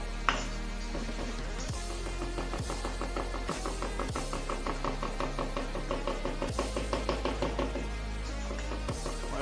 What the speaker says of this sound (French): Faut le hacher le plus fin possible.